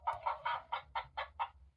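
A farm animal sound book button plays chicken clucking: seven short, evenly spaced clucks in a quick rhythm, clear and alone.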